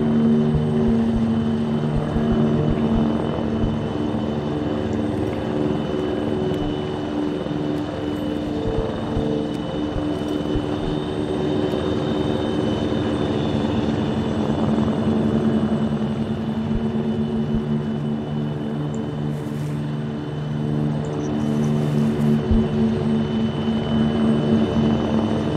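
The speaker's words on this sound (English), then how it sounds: "Don't move till this chopper's over." A helicopter in a military video game passes overhead with a continuous, loud rotor drone and engine hum that holds steady throughout, with no talking.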